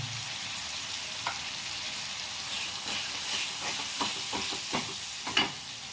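Turmeric and masala fry in hot oil for an egg curry, a soft steady sizzle with scattered stirring scrapes and clinks, fairly faint and heard alone without talk.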